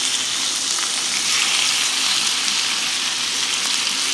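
Chicken pieces for fajitas, seasoned with plenty of garlic, sizzle loudly in a hot pan, a dense, steady crackling and hissing that fills the whole stretch with no voices over it.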